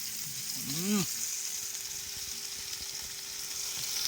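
Snakehead fish frying in a pan while cooking in the forest, a constant close sizzle running throughout, with a brief voiced sound near the start.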